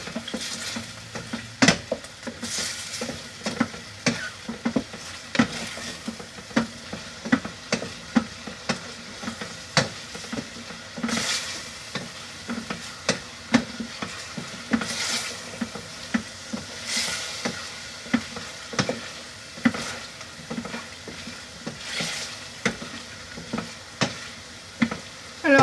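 Turkey strips in a creamy curry sauce sizzle steadily in a pan while a utensil stirs them, scraping and clattering against the metal in frequent sharp knocks over a constant frying hiss, close up with no voices.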